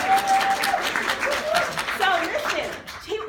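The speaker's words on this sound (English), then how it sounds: "You better clap for my mom." An audience claps and cheers loudly, with a few whoops and voices mixed in, then the applause fades toward the end.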